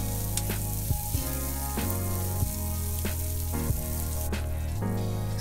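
Chopped ingredients sizzle in a frying pan previously used for Cajun shrimp, a continuous moderate hiss that sits beneath prominent background music.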